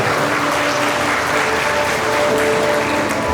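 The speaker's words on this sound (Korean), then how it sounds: "양가 어머님께 다시 한번 큰 박수 부탁드립니다" Sustained applause from a wedding hall audience honoring the mothers of both families during the ceremony, a dense, steady wash of many hands clapping at close range.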